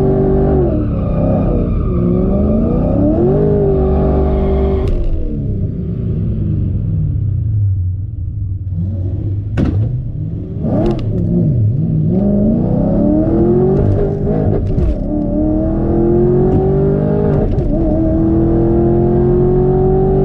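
A supercharged Camaro making a drag racing pass against a big turbo Firebird, with a loud, close engine roar that climbs through the gears with repeated rising revs and shifts and heavy low rumble throughout.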